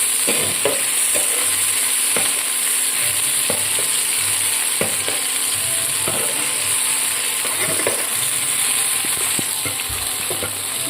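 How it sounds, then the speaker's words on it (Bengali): Chopped tomatoes fry in a pan with a steady close sizzle, broken by regular clicks and scrapes of stirring throughout; no one speaks. "একটু সুন্দর করে ভেজে নেব"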